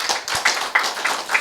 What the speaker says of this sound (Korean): 다시 한번 축하의 박수 주시죠